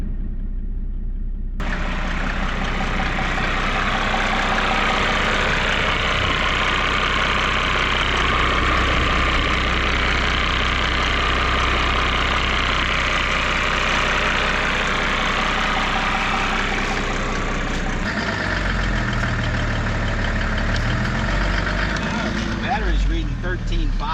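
A Mercedes E 300 diesel W210 with a fault idles steadily, its loud, close, rough diesel clatter continuing throughout with the pitch settling slightly near the end.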